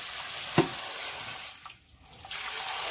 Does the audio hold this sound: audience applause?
no